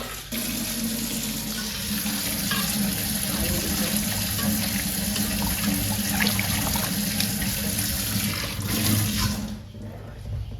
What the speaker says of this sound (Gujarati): અહીંયા છે ને ભાત ધોવાનું કામ ચાલુ છે